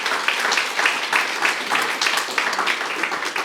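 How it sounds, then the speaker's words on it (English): Audience at a rare fruit growers' panel claps to welcome the speakers, a close, fairly loud round of uneven clapping from a modest crowd lasting a few seconds. "Let's give them a round of applause for showing up for us."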